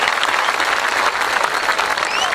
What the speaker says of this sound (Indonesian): Tepuk tangan untuk Mas Andri